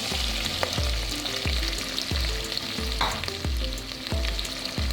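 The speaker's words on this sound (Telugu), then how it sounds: "ఈ మసాలా దినుసులను అందులో వేసుకోవాలి తర్వాత ఈ వెల్లిపాయ ముక్కలను కూడా ఇందులో వేసుకోవాలి" Whole spices and garlic pieces sizzle loudly in hot oil in a pressure cooker for a Telangana mutton curry, with a steady frying hiss and a regular series of stirring knocks about once a second, no voices.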